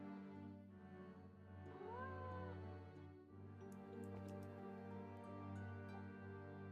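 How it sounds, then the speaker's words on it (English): A cat meows once, faint and brief, inside a Nancy Drew mystery video game, over a steady low hum. "Is that a cat meowing?"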